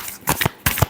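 Two short, crisp riffles of tarot cards being shuffled nearby, separated by a brief gap, with no voices.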